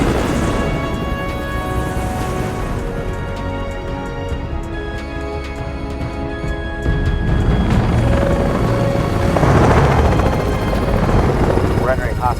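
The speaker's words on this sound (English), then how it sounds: "I need 2 helicopters." Rendered helicopter scene from an Avatar-style hostile airspace sequence: a loud, continuous rotor and engine roar from two helicopters fills the whole stretch, swelling slightly toward the end, layered with a dense, steady mechanical drone.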